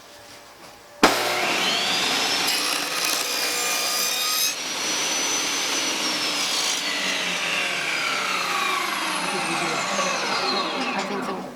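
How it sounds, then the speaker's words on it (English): Table saw blade cutting a dado lip into a wooden board for a Christmas gift box, a sudden loud start followed by a steady, near whine that shifts pitch as the blade bites, running alone for about ten seconds. "And it'll come on through and make that little dado, or what looks like a lip on this board."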